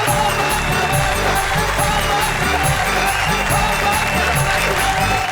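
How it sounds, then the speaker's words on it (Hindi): Audience at a Hindi comedy poetry stage show clapping and cheering to welcome a performer, a dense, loud wash of applause that continues steadily throughout. "जोरदार तालियों से स्वागत करें।"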